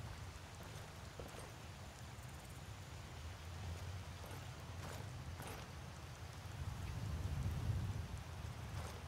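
Steady rain falls in the video game Skyrim, a soft, continuous hiss with low rumble that swells slightly toward the end, with no voices.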